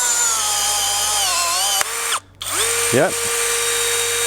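An 18V battery-powered brushless riveter by Enegitech runs a cycle on a 3/16 stainless steel rivet, a loud steady motor whine broken by a sharp snap, a brief drop and a rising whir as it resets, with a short spoken word.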